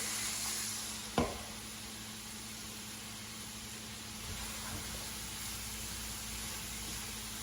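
Sausages and cherry tomatoes with black pepper and salt cook in a pan, giving a steady, quiet sizzle throughout, broken by one sharp pop or clink early on, with no talking.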